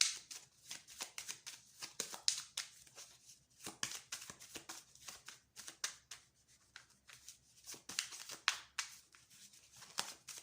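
Cards are shuffled and drawn during a card reading, giving quiet, close, papery riffles and flicks in quick irregular bursts with short pauses between.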